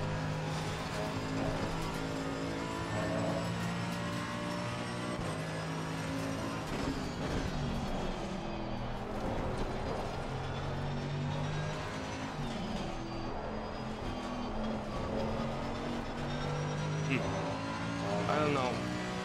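Steady, continuous race car engine drone from an Assetto Corsa Competizione lap in a league race, rising and falling with gear changes, with someone talking over it.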